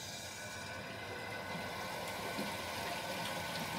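Lab eyewash station running after its lever is pushed: a steady, faint hiss of flowing water that continues evenly throughout with no voices.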